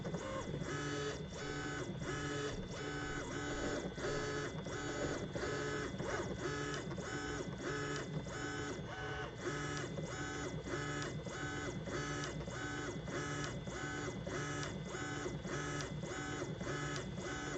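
An EasyThreeD K1 3D printer works through its first print, its stepper motors whirring and chirping in steady, repeating tonal patterns; continuous, close and fairly quiet, with no talk.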